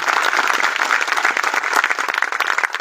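A crowd at a Dhanteras public event applauds loudly, a dense, continuous roar of many hands clapping close by for a few seconds.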